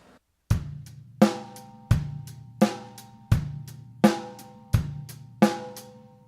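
A basic rock drum beat on a kit, bass drum and snare alternating in a steady pulse with hi-hat ticks between, about eight sharp hits, close and played alone.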